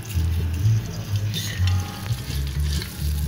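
Bay leaves and cumin fry with reddened onions in hot oil for white saada pulao, a close, crackling sizzle with rhythmic stirring scrapes and clanks throughout.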